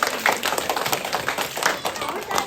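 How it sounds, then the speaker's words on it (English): Children and adults clap together during a library science show, quick uneven bursts of hands that swell and fade over a couple of seconds, fairly close. "Give a big clap."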